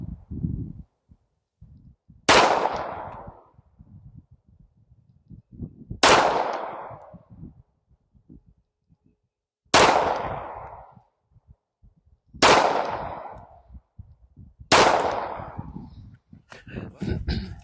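Five loud, sharp shots from a Ruger Security-380 pistol, spaced a few seconds apart at a slow, deliberate pace, each crack followed by a short decaying echo, with no talking between them.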